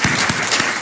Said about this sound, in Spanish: Un aplauso para el Estado de Quintana Roo